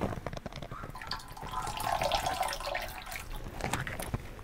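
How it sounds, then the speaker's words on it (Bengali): Tamarind water is poured into a pot of sambar, giving a steady splashing trickle that swells briefly in the middle and fades, with no talk. "তেঁতুল গুলার জলটা আমি ওর মধ্যে দিয়ে দেবো"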